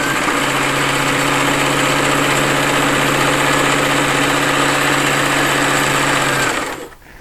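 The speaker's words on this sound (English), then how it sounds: "I'm going to back stitch and one more stitch, and we are ready to sew our final seam here." A sewing machine stitches a seam, its motor whirring at a steady, fast, even pace up close for several seconds before winding down and stopping.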